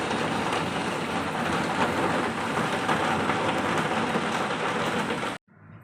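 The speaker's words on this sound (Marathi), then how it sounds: "बाहेर मुसळधार पाऊस पडत आहे" Heavy rain pours steadily outdoors, a thick continuous roar that cuts off abruptly near the end.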